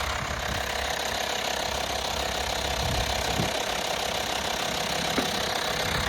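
Steady, even idle of a Volkswagen Transporter TDI five-cylinder diesel engine heard up close, a continuous low rumble with a faint rhythmic clatter and no voices.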